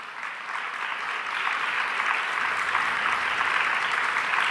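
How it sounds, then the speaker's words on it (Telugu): Applause from a church congregation, a steady dense clapping crowd that holds and swells slightly throughout, with no speech over it. "బాగా నడిస్తే బాగా చప్పట్లు కొట్టండి."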